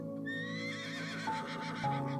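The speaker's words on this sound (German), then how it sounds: "Ein Pferd." A horse neighs in a long, wavering whinny, close and clear, with no other sounds around it.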